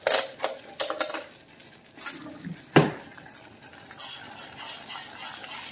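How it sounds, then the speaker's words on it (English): A spoon stirs boiling caramel icing in a pot on a stove. Several sharp scraping taps and clinks come in irregular bursts, followed by a soft, steady bubbling hiss. "Now at this point, you should be able to stir it again,"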